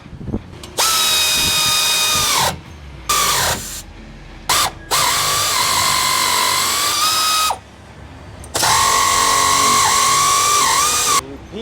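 Power tool or ratchet tightening exhaust tip clamps on a 2015+ Ford F-150 dual exit catback exhaust, several loud whirring bursts near the mic separated by short pauses, with no talk.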